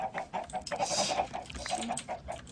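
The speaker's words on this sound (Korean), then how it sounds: "아, 어 닭이다." Chicken clucking in the Minecraft video game, a string of short repeated clucks in an uneven rhythm, fairly close and moderately loud against a busy game background with no talk.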